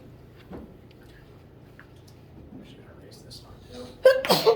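A quick sneeze bursts out in a physics lecture room near the end after a stretch of quiet room noise, followed by a brief rustle.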